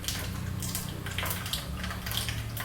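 Water poured into thick ground chutney, a close trickling and splashing pour with light drips and a faint low hum underneath, no voices.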